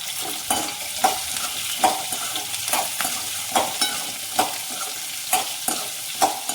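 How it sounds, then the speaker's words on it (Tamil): Grated coconut sautéing in a pan for perandai chutney: a soft, continuous sizzle with regular spatula scrapes and taps about every half second, close up and without voices. "இதோட இந்த தேங்காயை சேர்த்து போட்டு வதக்குறோம்."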